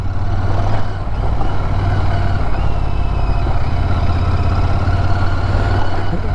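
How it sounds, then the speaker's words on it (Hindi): A motorcycle engine drones steadily on a rural road near a fort gate in Shahabad, loud and close throughout with a low rumbling hum and no clear pass-by swell. "एक बाइकर जा रहा है"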